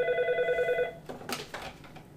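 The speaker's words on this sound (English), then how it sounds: "Phone is ringing." A telephone rings on an inbound SIP trunk test call, a bright electronic trill for about a second, followed by faint clicks and line noise as the ringing stops.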